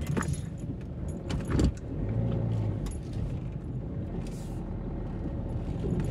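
A car drives past on an unplowed snowy road, heard from inside a stopped vehicle as a steady low rumble with a brief swell, along with a jingle of keys and faint rattles.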